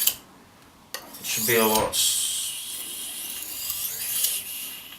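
A kitchen knife is drawn across a sharpener, producing a steady, close-up rasping grate for several seconds after a brief spoken phrase. The scraping is loud and continuous, and the blade edge is being polished as the grating smooths out.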